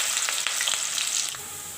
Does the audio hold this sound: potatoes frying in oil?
yes